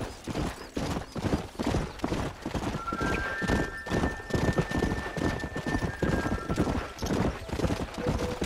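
Horses in the video game Red Dead Redemption clip-clop along in a quick, steady rhythm of hoofbeats, fairly close, with a faint high tone drifting in partway through.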